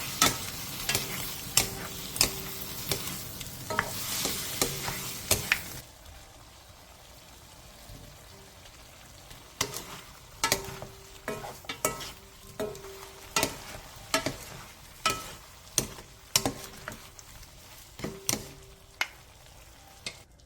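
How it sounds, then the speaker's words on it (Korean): Onion being stir-fried in a seasoning sauce over medium heat, with a steady sizzle and repeated sharp clinks and scrapes of the utensil against the pan throughout, quieter in a brief middle stretch. "그 다음 양념장과 양파를 넣고 중불에서 양념이 자작해질 때까지 3분 정도 조리듯이"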